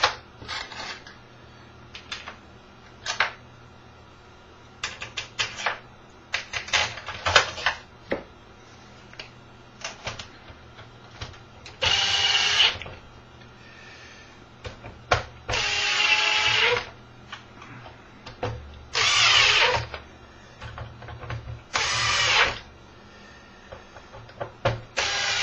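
Case screws being power-driven into a plastic Xbox 360 air flow box: several sustained whirring drill bursts of a few seconds each, interspersed with sharp clicks and handling taps, close and fairly loud.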